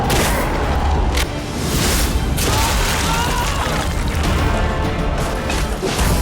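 A light bomb blast in the video game Nosgoth, dense booming and crashing bursts of battle noise that keep going loud and close for several seconds.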